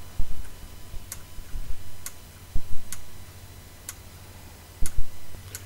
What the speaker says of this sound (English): You will hear the relay is going to be slightly quieter.